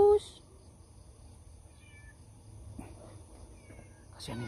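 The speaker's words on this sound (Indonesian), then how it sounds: "Lucu loh kucing ini." A cat gives a couple of soft, faint meows in a quiet outdoor spot, with low murmuring voices in the background.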